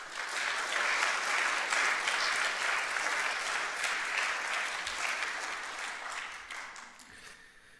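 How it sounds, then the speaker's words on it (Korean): A church congregation claps together in a warm, dense burst of applause that holds steady and then slowly thins out, with no voices over it. "여러분 한번 서로에게 크게 한번 박수하십시다."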